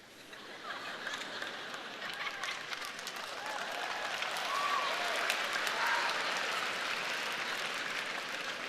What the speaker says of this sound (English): I talk about cows and you clap.